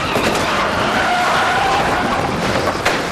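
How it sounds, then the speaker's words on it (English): A police car rams a suspect's car on a highway near an off-ramp, with loud, close skidding and tire scrubbing running throughout and a brief sharp knock near the end. "The police unit rammed the suspect's car, and it's flipped upside down"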